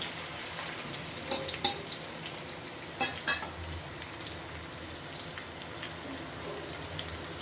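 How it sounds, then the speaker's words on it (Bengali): Onions frying with a bay leaf in a pan for muri ghonto, a steady faint sizzle throughout with a few light scrapes of stirring, no talking. "পেঁয়াজটা নাড়িয়ে চাড়িয়ে খুব সুন্দর করে লাল লাল করে ভেজে নেব"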